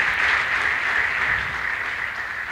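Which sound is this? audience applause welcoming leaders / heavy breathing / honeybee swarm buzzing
audience applause welcoming leaders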